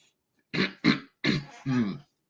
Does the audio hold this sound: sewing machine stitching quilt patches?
no